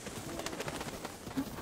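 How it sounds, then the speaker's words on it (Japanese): A pigeon calls softly in Zelda: Breath of the Wild, its faint cooing mixed with light ambient game noise and scattered rustles. "あ、ハトポポいた。"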